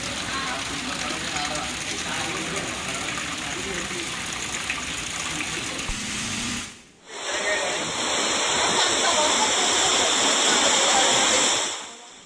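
Heavy thunderstorm rain pours down over Hyderabad, a dense roaring hiss heard near and loud, then a brief drop before the downpour returns just as strong.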